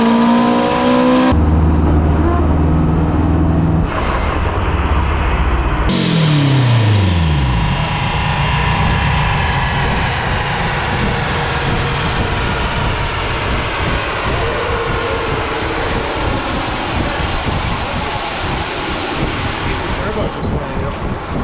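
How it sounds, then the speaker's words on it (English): A tuned car engine revs hard on a dyno, pushing toward 600–700 horsepower, as its turbo fails; loud sustained engine roar with rising and falling pitch sweeps, then a steady harsh rush of noise. "My turbo just gave out."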